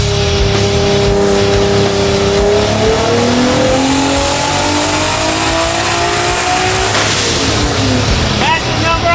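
A Toyota 2JZ engine swapped into a Hellcat Challenger revs hard on a FuelTech dyno, a loud continuous roar with rising and falling pitch sweeps, close and dominant throughout.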